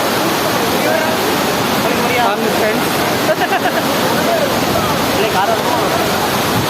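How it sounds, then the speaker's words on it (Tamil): Courtallam waterfall pouring heavily during rain, a loud, steady broadband roar of crashing water filling the whole clip, with faint voices mixed beneath. "தண்ணி இவ்வளோ அழகாக விழுதுன்னு பாருங்க."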